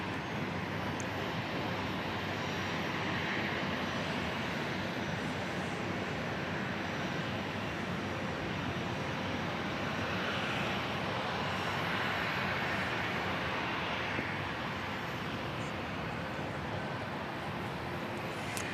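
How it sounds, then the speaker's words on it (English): Planes landing low over a Starbucks at Dallas Love Field airport in the morning: a continuous broad engine roar that swells and fades gently as aircraft pass overhead, with no talk. "the planes fly right over the Starbucks as they're landing"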